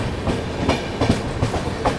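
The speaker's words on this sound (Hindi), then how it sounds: "हमारी ट्रेन खलीलाबाद रेलवे स्टेशन पे एक नंबर प्लेटफॉर्म पे आ चुकी है।" A passenger train on the Vaishali Express route runs past the platform at Khalilabad railway station in India, giving a loud, steady rumble with rhythmic clickety-clack beats from the wheels.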